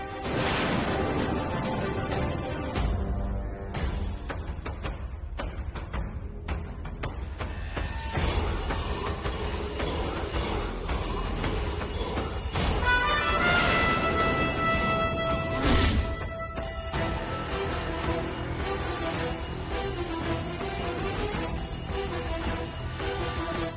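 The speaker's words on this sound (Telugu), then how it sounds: "అమర్ ఫోన్ చేస్తున్నాడేంటి?" A telephone bell rings in repeated bursts with short pauses between, loud and clear over quiet background music.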